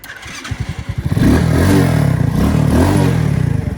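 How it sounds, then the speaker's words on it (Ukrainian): A Spark 125C-2AM motorcycle idles with chugging engine pulses, then revs up and pulls away with a loud, steady mid-pitched engine drone, close by and without talk. "зараз будемо заміряв максимальну швидкість і покажемо, як він їздить нафіг"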